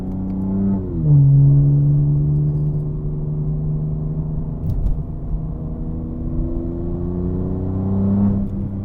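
A 700 HP BMW G80 M3 Competition's engine drones loud and close from inside the cabin in paddle-shift manual mode. The pitch dips sharply early, holds steady, then climbs again near the end with no talk.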